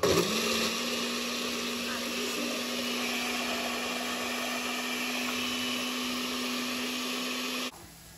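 Kitchen blender whirring steadily while making corn cream, a loud continuous motor drone with a steady hum that cuts off abruptly near the end.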